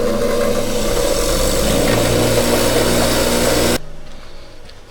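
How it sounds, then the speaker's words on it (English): A loud, steady grinding buzz from deburring a freshly machined lathe part, running without a break for almost four seconds and then cutting off abruptly, leaving faint workshop noise. "While I'm here, deburr it a little."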